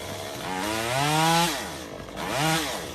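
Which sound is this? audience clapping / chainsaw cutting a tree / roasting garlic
chainsaw cutting a tree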